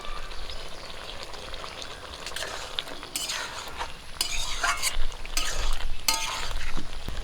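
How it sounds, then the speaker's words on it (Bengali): Pointed gourd (parwal) and egg frying in a pan with garam masala, a steady soft sizzle broken by bursts of stirring and the scrape and clink of a utensil against the pan, no talking. "পটলগুলো দিয়ে আবারও কিছুক্ষণ জাল করে নেব"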